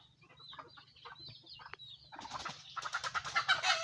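Young stag chickens cluck and chirp in bursts close by, calls scattered at first and then turning denser and louder toward the end, with a steady low hum beneath.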